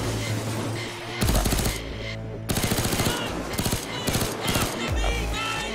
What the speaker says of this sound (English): This SMG is pretty cool.